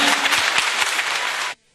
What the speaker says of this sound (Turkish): CHP'li kadınların coşkulu alkışlarıyla karşılanan Ali Ağa'nın genç adayı